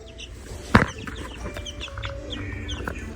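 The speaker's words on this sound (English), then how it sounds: "Those look like my 3 hens back there, and those 2 look like my roosters." Chickens cluck around a farmyard with a small flock of hens and roosters, one louder squawk standing out early among steady nearby clucking and scattered calls.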